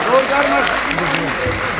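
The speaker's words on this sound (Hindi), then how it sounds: "जोरदार तालियां" Crowd applause at a cow-shelter event, a steady clatter of clapping that runs throughout beneath voices and sung or chanted tones.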